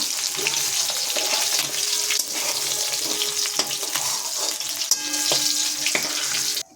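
A fish head frying in plenty of oil gives a loud, dense, continuous sizzle close up, with occasional clinks and spatters throughout, no voices.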